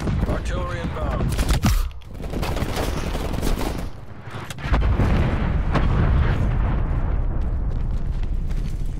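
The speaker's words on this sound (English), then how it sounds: "Artillery targeting detected. Artillery inbound." Incoming artillery in Call of Duty Black Ops Cold War rumbles through a dense battlefield of explosions and gunfire, with heavy booming blasts and sharp shots layered loudly together and a brief dip before the barrage swells again, game voices faintly beneath.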